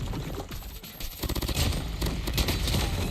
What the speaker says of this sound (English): this VMP definitely has some pretty insane recoil